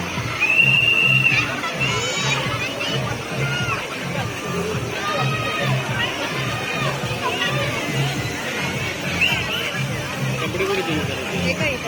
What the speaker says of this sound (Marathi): बघा किती गर्दी आहे.